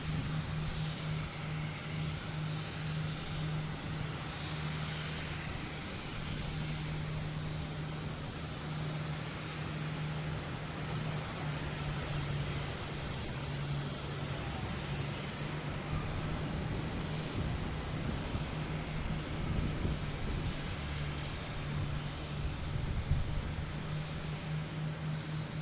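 A Boeing 787 airliner takes off at Boston Logan Airport, a steady, distant jet roar with a low engine hum that holds evenly throughout, without voices.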